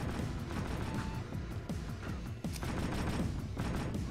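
Sustained gunfire from a security tank in the Jak II video game on PS2, dense rapid bursts of shots and blasts running continuously at high volume throughout.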